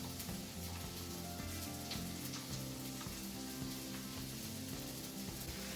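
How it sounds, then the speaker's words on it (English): Italian sausage fries in a pan with a steady, dense crackling sizzle. The sizzle holds an even level throughout, over a low tonal background hum. "I'm just cooking up my Italian sausage here"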